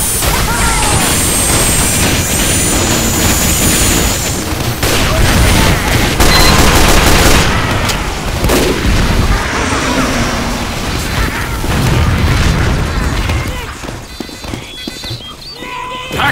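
Gunfire and explosions from the online shooter game Team Fortress 2, a dense, loud barrage of shots, bangs and booms mixed with game noise that stays busy throughout and eases slightly toward the end.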